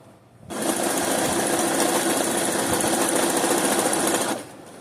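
A sewing machine whirs steadily at close range for about four seconds while backstitching, then stops abruptly.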